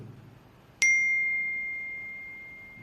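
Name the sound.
iPhone notification sound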